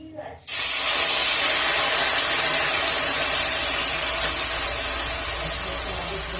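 Water splashed into a hot wok over a gas stove flares into a loud, sudden sizzle that hisses steadily and slowly fades, following a few quiet clinks.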